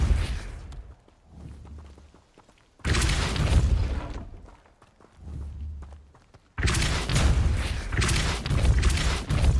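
Depulso blast spell in the Hogwarts Legacy video game: two heavy, booming bursts of force, each a loud sustained rush with thuds that fades back to quieter ambience between them.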